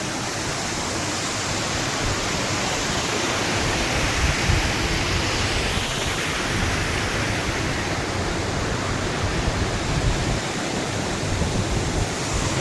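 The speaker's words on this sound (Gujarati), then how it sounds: "ખૂબ જ સરસ પાણી પડી રહ્યું છે" Steady, loud roar of Kundi waterfall in rainy weather, a continuous broadband rush with no pauses, heard up close.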